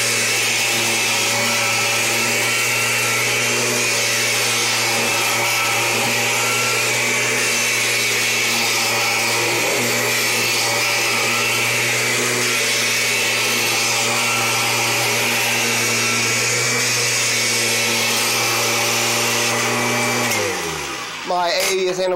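A 2000 Limited Edition Kirby G6 vacuum cleaner shampooing carpet, a loud steady motor whine with a constant hum that runs unbroken and then winds down at the end.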